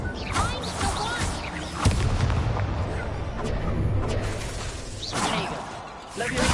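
Spell blasts, Confringo and Incendio, go off in Hogwarts Legacy, a dense run of booming, crackling magic impacts with sharp bursts over a busy game soundscape; a voice talks over the action.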